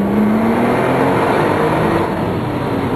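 A 2010 Porsche 911 Turbo with a 3.8 biturbo engine accelerates, a loud, steady engine roar heard from inside with a slowly rising tone and no pause throughout.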